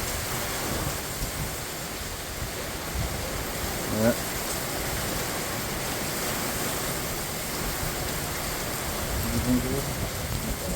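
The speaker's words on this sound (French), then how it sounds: "Je sais pas si vous voyez la pluie là." Heavy rain lashes down in a swirling wind storm near the summit of Mont Saint-Rigaud, a steady dense roar of rain and gusts filling the scene while a voice briefly speaks over it.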